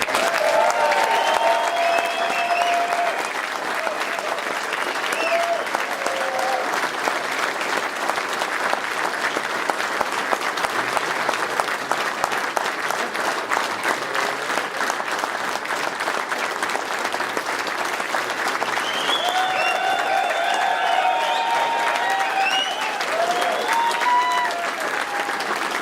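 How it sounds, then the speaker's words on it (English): A rally crowd against the carbon tax in Regina applauds the premier, a dense, steady wash of clapping that holds for the full stretch, with occasional shouts and cheers rising above it. "Ladies and gentlemen, a round of applause, please, for our premier"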